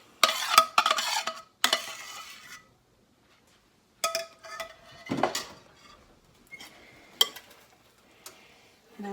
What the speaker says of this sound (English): And I'm mixing it together